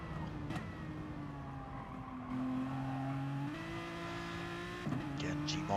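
Gr3 race car engine in Gran Turismo at Mount Panorama, Bathurst, heavy with fuel, droning steadily at mid-distance with pitch holding then stepping up through gear changes, fairly quiet throughout.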